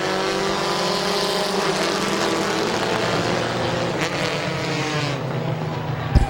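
Compact race cars in a heat race at Midvale Speedway roar around the track after the green flag, with a continuous loud engine drone from several cars and no talking.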